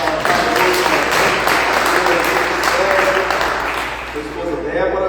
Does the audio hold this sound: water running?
no